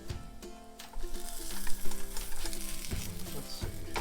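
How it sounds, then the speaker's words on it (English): French toast bread frying in a hot pan gives a steady crackling sizzle with bursts of spattering, louder after the first second, close and alone with no talk. "Now we're just going to keep waiting for the frying pan to get completely hot, and then we'll flip and we'll be good to go."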